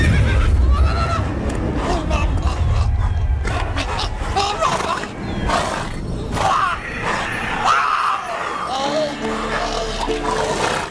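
Horse Roach in the video game The Witcher 3 neighs and gallops, a close whinny over thudding hoofbeats, mixed with game sounds and someone speaking.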